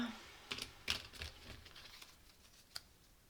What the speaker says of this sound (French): Allez, on va tirer des petites cartes.